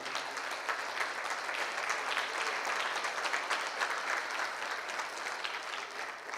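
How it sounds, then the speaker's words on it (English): An audience at a youth seminar in Hyderabad applauds, steady dense clapping from a room full of people lasting several seconds. "Let us all give a wonderful clap to Telangana State Committee."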